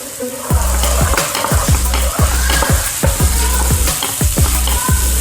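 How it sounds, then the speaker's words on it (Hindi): Minced meat with turmeric fries in a pan for matar keema, making a steady close sizzle broken by a regular rhythm of spatula scrapes and stirring strokes, with no talking. "इसे 2 से 3 मिनट के लिए हमने भूनना है।"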